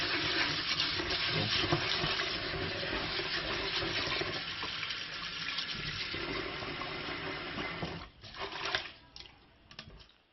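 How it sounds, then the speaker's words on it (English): Cold and hot tap water runs steadily onto rice being washed, a continuous splashing rush with a brief dip and a few small clatters near the end. "I'm gonna wash the rice."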